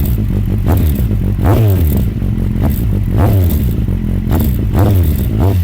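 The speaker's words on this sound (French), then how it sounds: "Les gars, le son Akrapovic, c'est un plaisir." A Kawasaki Z800 Sugomi motorcycle fitted with an Akrapovic exhaust is blipped in short, repeated throttle revs, each a rising then falling snarl over a rumbling idle, loud and close.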